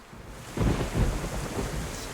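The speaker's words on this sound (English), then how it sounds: "We're not afraid of a little bit of a thunderstorm" A thunderstorm in the survival game DayZ, with steady rain hissing throughout and a deep rolling thunder rumble building partway in and lingering, moderately loud with no talk.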